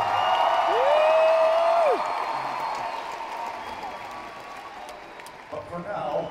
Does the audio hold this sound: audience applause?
yes